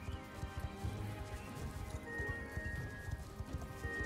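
Horse hooves clip-clopping in the Star Stable horse-riding video game, a steady fast rhythmic patter of hoofbeats running the whole time over a busy game soundtrack, with no talking.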